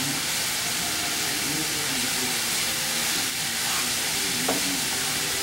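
Vegetable rice stir fry with mushroom, ginger and garlic sizzles steadily in a pan, a dense continuous hiss close up with faint stirring scrapes, no talk.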